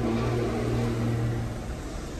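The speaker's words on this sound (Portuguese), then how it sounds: "O barulho desse carro é diferente, mano" A car passes on a busy city-centre street, its engine humming close and fairly loud before gradually easing off.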